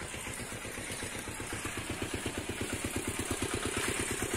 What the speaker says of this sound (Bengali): পিছনতে একটা ইঞ্জিন ভ্যান আসছে।